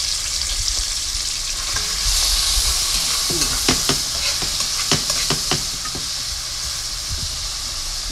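Food frying in a pot gives off a loud, steady sizzle and hiss, with a burst of brighter crackling and clinking stirring sounds in the middle, up close with no talk.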